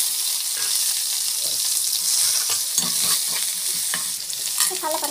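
Curry leaves and green chillies fry in hot oil with loud, crackling sizzling and spattering, broken by the scrape and clatter of stirring, close up and unbroken by any voice.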